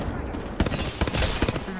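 Rapid automatic gunfire in the battle royale shooter Apex Legends comes in dense, loud bursts of cracking shots over a busy game soundscape, with a player's voice partly mixed in.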